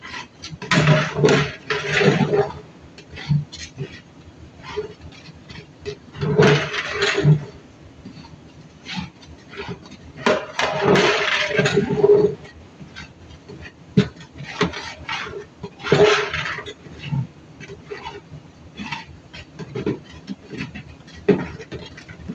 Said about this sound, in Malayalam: നല്ലപോലെ ഒന്ന് ആ ചുവയൊന്ന് മാറുന്നിടം വരെ നല്ലതുപോലെ ഒന്ന് മിക്സ് ചെയ്യും